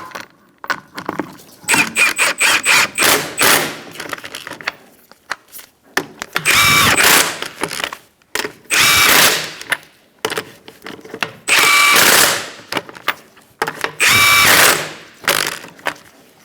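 Lug nuts on a 2004-2009 Mazda 3 wheel are run down in a star pattern by a power tool, which sounds as loud, separate whirring bursts of about a second each, with clicks and handling noises between them.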